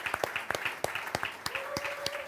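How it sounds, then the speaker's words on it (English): Scattered hand claps from a small audience at a startup panel hangout, a few people clapping unevenly with moderate loudness, with a steady tone running beneath the later claps. "I want to ask for a big round of applause also for everyone in Porto and Lisboa."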